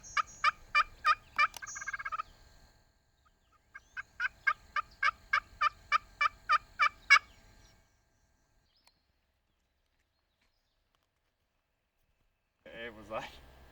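Wild turkeys gobble outdoors in two rapid bursts of repeated calls, loud and fairly close, followed by a long quiet stretch and a brief final call at the end.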